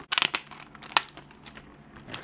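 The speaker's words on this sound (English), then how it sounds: "Let's see how we unwrap this thing." Crinkling and tearing of plastic and paper packaging as an Apple wireless keyboard is unwrapped, with a burst of crisp rustles at the start, a sharp crackle near the middle and quieter scattered crinkles after.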